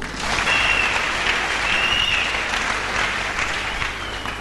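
A church congregation claps loudly and continuously, dense applause sustained evenly from start to finish with no break.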